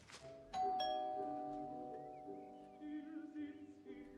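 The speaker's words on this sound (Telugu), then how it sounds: "నువ్వు కాలింగ్ బెల్ కొట్టు." A doorbell chimes a two-note ding-dong, sounding close and clear, then rings on quietly in the room in a Telugu-dubbed horror thriller film, Tailgate (2019).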